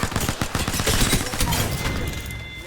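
Rapid bursts of gunfire in the video game Apex Legends, loud and dense volleys of shots that ease off toward the end.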